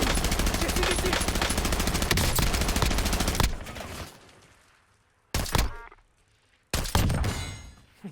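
Automatic gunfire rattles in the battle royale game Warzone, a long loud burst that fades out, then two shorter sharp bursts separated by near silence.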